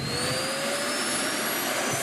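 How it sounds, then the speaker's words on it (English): A vacuum cleaner docking station empties the canister with an air-pulse system, giving a loud, steady roaring whoosh with a faint rising whine that holds for the full two seconds. "That's vacuuming the vacuum cleaner."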